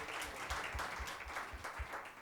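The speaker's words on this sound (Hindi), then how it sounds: "clap your hands and give glory" A church congregation at a Sunday Tamil and Hindi service claps hands in a steady rhythmic beat, a broad crowd sound with a faint voice beneath.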